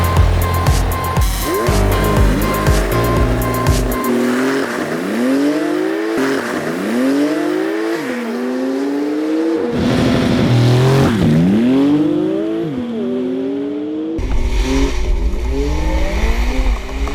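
A Porsche 911 GT2 RS and a McLaren 720S launch hard in a drag race, engines howling through rapid upshifts with repeated rising sweeps, loud and close, with tire noise and excited shouting around the runs.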